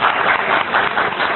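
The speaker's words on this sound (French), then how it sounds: "applaudissez pour le s'il vous plaît" Brief burst of clapping from guests at a wedding ceremony, moderately loud and steady for about a second and a half.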